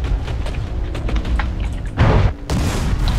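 Explosions in the Planetside 2 video game: a busy, rumbling battle bed with scattered sharp reports, then a heavy booming blast and a second burst of roaring noise near the end.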